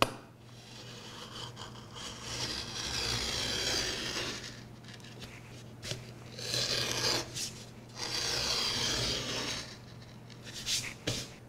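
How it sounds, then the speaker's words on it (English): A marking gauge scribing lines across a wood board for dovetails, giving soft repeated scraping strokes in bursts with short pauses, close and fairly quiet. "I'm going to go back to the marking gauge, and I'm only going to scribe on the front and back."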